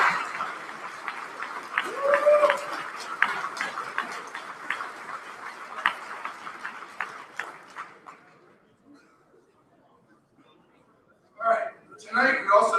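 An award ceremony audience claps steadily for a university program's win, a dense crowd of applause that fades out, then a few brief bursts of cheering and laughter near the end.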